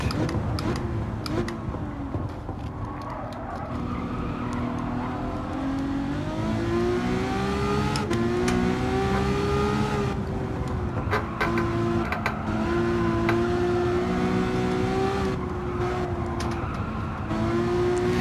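Ferrari engine in Gran Turismo 7 on PSVR2, a loud sustained tone that climbs through the revs, dips and climbs again, with a few brief clicks along the way.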